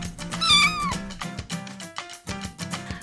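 A cat meows several times in quick succession, loud and close, with drawn-out, wavering cries broken by short pauses.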